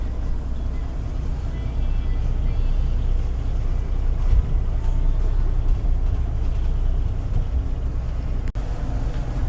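A Tiara 39 Coupe motor yacht's Volvo IPS engine drones steadily at close range near Sausalito, a continuous low rumble with faint background chatter.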